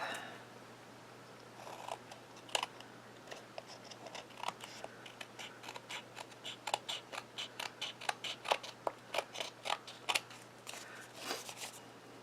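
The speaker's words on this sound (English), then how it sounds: "So let's trim this up." Scissors snip repeatedly in quick, close, crisp cuts while trimming a paper card front decorated with glitter leaves, the cutting steady and alone in a quiet room.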